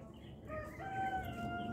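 Chickens in a garden setting, with a rooster's crow rising faintly out of low background noise, a short distant call heard alone.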